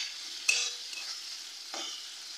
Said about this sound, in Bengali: চিংড়ি মাছগুলো বেশি ভাজার প্রয়োজন নেই, সামান্য একটু নাড়াচাড়া করেই আমি নামিয়ে নেব